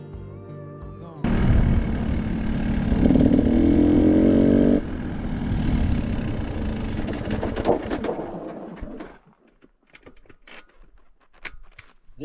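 A motorcycle engine runs loudly with a rough, throbbing drone for several seconds, then cuts out abruptly, leaving near quiet with only faint scattered knocks and rustles.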